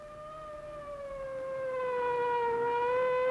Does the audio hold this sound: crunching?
no